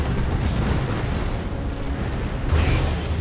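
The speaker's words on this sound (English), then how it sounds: "that's going to be a creeping barrage" Dense, continuous rumbling artillery explosions from a creeping barrage in the strategy video game Dawn of War II: Retribution, loud and booming throughout with a heavier burst near the end, no speech.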